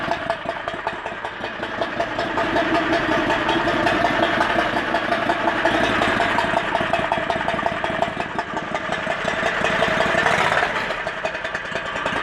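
670 cc four-seater go-kart dune buggy engine idling on a 26-degree day, a steady close-up rumbling idle with a rough, uneven rhythmic chug that holds throughout.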